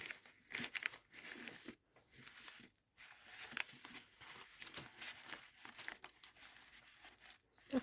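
Paper and fabric snippet rolls are handled and shifted in a basket, making soft, continuous crinkling and rustling with occasional light tearing sounds, quiet and close.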